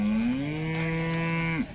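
A cow at a cattle market gives one long, close, loud moo that holds steady and breaks off sharply at the end.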